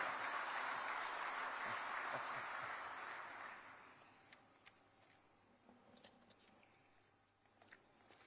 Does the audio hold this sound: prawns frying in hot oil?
no